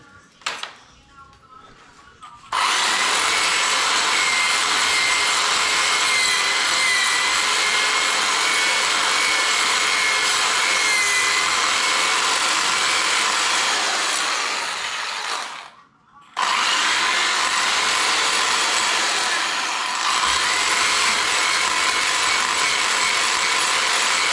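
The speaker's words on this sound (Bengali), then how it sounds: "মানে ড্রিলটা আরেকটু করতে হবে আমাদের" A power drill bores into a wall for the sockets of a Samcon SK-M215 wall mount for a Samsung 22-inch monitor. It makes a loud, continuous grinding whine in two long runs, split by a brief pause.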